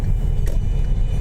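A Kia car passes on the Bannockburn motorway interchange near Stirling, Scotland, heard as a steady, loud low road rumble of tyres and engine close by.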